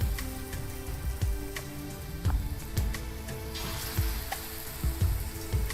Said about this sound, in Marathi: आपल्याला एक एक मिरची अशी तळायची आहे